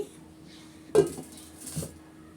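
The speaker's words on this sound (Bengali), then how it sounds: "এখানে আমি একটা প্লেট নিয়ে নিয়েছি স্টিলের প্লেট আর এখানে আমি প্লেটের উপর রেখে দিচ্ছি" Dough buns set down onto a steel plate give one clear metallic clunk, then a softer second contact a moment later, close up in a quiet kitchen.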